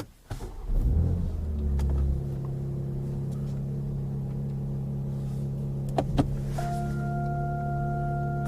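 BMW X4M Competition engine, heard from inside: a deep exhaust rumble swells as it starts, then settles into a steady idle drone with a few clicks and a faint electronic chime.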